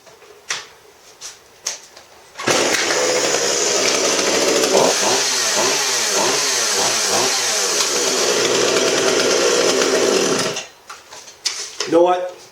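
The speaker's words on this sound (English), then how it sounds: "I don't think I'll use a chainsaw on this box this time." A chainsaw roars loudly and close for about eight seconds, its engine revving and wavering in pitch, then cuts off, with a few short knocks before and after.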